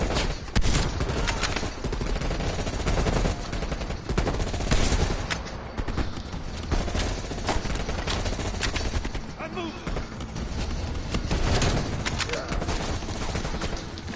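M16 rifle fire in a Call of Duty Cold War campaign sniper mission, with dense, repeated bursts of loud shots through the whole stretch and a voice talking at times beneath the gunfire.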